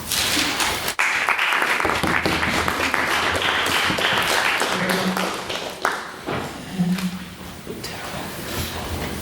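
At a debate on whether Thatcher should have led Britain in the Second World War, the audience applauds a finished speech, a thick run of clapping that thins and turns patchy with scattered taps in the latter half.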